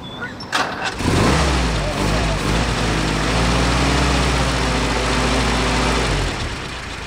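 A Willys jeep engine cranks briefly, then catches and runs loud and steady near the microphone, revving up on start-up while suffering from vapor lock, holding a rough idle-to-rev drone for several seconds.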